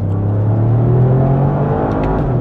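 A Toyota GR Yaris facelift engine in sport mode gives a loud, close, steady rumbling drone with a sustained low hum, the revving held level throughout, with no voices.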